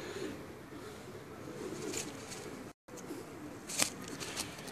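Soft cooing from breed 79 pigeons over a steady background hiss, with a couple of brief brighter calls standing out toward the end.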